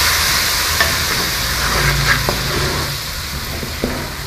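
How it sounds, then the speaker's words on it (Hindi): Masala with turmeric powder frying in a pan for a kaddu (pumpkin) sabzi, a steady close sizzle with a few soft stirring clicks and no talking. "इनको अच्छे से जो है हमने भून लेना है।"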